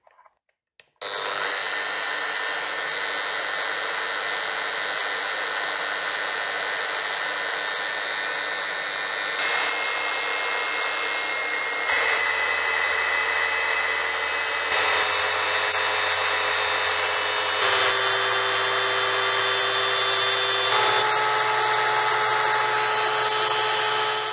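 Bosch GET 75-150 eccentric sander starting up and running idle at first speed: a steady high whining motor hum with a few brief clicks at the start, then continuous and even, shifting slightly in pitch several times, close and alone.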